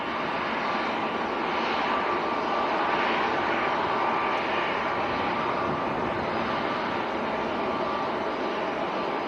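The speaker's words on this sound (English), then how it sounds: "Challenger 350." A Challenger 350 business jet at Manchester Airport gives a steady, broad engine roar with a soft airy hiss, constant and moderately distant throughout, with no talk over it.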